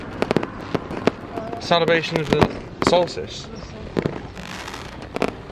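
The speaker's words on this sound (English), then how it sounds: "just fireworks everywhere, kids running around just lobbing fireworks about." Fireworks and firecrackers go off during a San Juan summer solstice celebration, a scatter of sharp, close bangs and cracks in irregular bursts, while people talk over and between the explosions.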